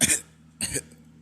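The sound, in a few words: voice imitating coughing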